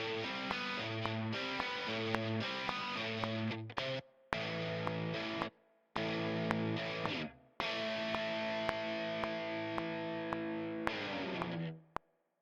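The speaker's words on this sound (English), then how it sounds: "created this little guitar piece with Native Instruments." A distorted virtual electric guitar from Native Instruments plays a chugging riff with repeated chords and short stabs, broken by a couple of abrupt pauses, loud and upfront with no voices.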